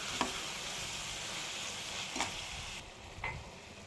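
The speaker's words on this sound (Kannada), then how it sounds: "ಆವಾಗಲೇ ರುಬ್ಬಿಟ್ಕೊಂಡಂಥ ಟೊಮೆಟೊ ಹಣ್ಣು, ಶುಂಠಿ, ಬೆಳ್ಳುಳ್ಳಿ ಪೇಸ್ಟ್ನ ಹಾಕ್ತಾಯಿದ್ದೀನಿ" Tomato, ginger and garlic paste sizzles steadily in a frying pan for vegetable fried rice, a continuous soft hiss broken by a few brief clicks of stirring.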